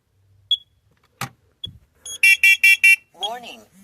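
Carbon monoxide alarm going off as a burst of four sharp, loud electronic beeps in quick succession, preceded by scattered clicks and followed by a brief warbling tone, all close and with no talk over it.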